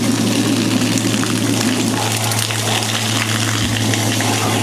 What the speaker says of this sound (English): it sounds like the tank's filling back up again